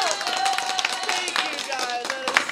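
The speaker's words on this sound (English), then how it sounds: "a big round of applause" Children and adults in a kids' music class give a short burst of clapping, quick scattered claps mixed with voices talking over them.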